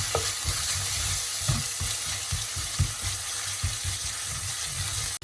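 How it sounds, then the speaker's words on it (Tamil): Curry leaves frying in hot oil for a spicy Sri Lankan beef curry, a steady sizzle broken by a series of scraping stirs and clacks in a loose rhythm, close and alone. "இப்போ நாங்கள் இதுக்குள்ள எங்களோட ரம்பையில் கறிவேப்பிலையே போடுவோம். போட்டுட்டு நல்லா பொரிய விடுவோம்."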